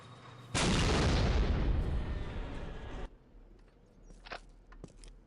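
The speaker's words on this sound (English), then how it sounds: "Napalm canister launcher." A napalm canister launcher fires in a video game: a sudden loud roaring blast sustained for about two and a half seconds, then a cutoff leaving faint crackles and a few sharp ticks.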